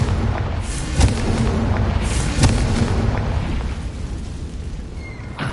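A Confringo spell from the Hogwarts Legacy video game going off as a loud, rumbling game explosion, with heavy booming bursts near the start and a sustained roar that slowly fades, without talking.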